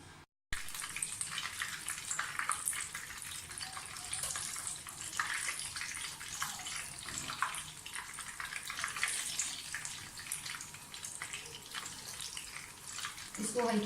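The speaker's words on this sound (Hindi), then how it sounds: "अब इसको मैं फ्राई करती हूँ" Potato pinwheels frying in oil over a low flame make a continuous broad hiss and bubbling sizzle, close by and fairly quiet, rising in bursts after a brief silent gap at the start.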